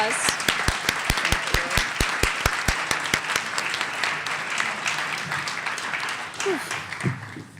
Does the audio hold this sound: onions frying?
no